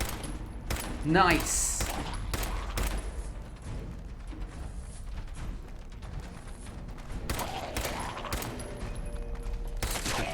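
Gunfire in Fallout 4 VR comes as scattered bursts of shots and clanking mechanical sounds at moderate loudness, with a person speaking briefly over the action.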